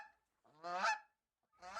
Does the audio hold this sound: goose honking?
yes